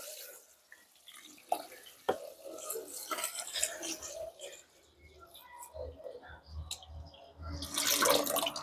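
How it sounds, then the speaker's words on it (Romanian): Water poured over a green plant in a container, a loose splashing and trickling stream, soft and intermittent, with bird cooing in the background and a louder splash near the end. "Iar eu peste această plantă verde, exact cum am spus, pun 10 litri de apă."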